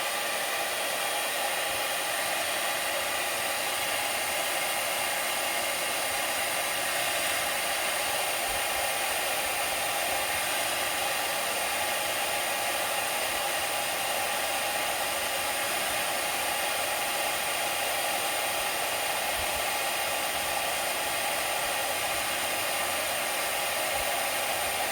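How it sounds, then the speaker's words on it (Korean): A hair dryer on its highest setting blows steadily at a phone to heat it for an internal cable repair, a constant loud broadband rush holding unchanged for the whole stretch with no talk. "이번에는 그냥 드라이기로 하겠습니다. 드라이기를 최강으로 하시고요."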